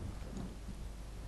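Heavy torrential rain pours with a low rumble of thunder in Final Fantasy XVI, a brief, fairly faint dense wash with no speech.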